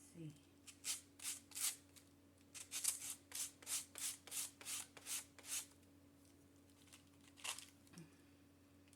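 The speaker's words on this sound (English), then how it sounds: "this next stage we are sanding the pages. I've got my sanding block and sandpaper" Rhythmic rasping strokes of a sanding block on sandpaper against the page edges of a small handmade book, about a dozen back-and-forth passes in steady succession, close up, then a pause and one more.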